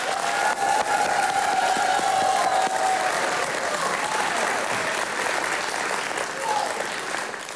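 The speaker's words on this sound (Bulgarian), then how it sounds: "Това трябва да се посрещне с много силни аплодисменти." Studio audience on the Big Brother Family TV show breaks into loud, sustained applause with some cheering, a dense wash of clapping that holds strong, then eases slightly toward the end.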